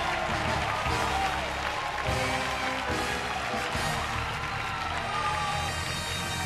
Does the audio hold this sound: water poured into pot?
no